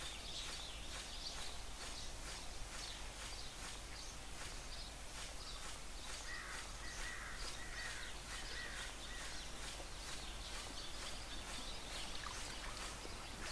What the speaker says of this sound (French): J'aime bien le bruit des oiseaux.